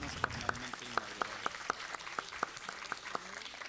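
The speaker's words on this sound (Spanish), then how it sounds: "vamos a darle Un aplauso a la doctora Lupita" Applause for a speaker, Dr. Lupita, at a psychology lecture series on special education, heard as sparse, evenly spaced hand claps in a steady rhythm, moderately close, with murmured voices underneath.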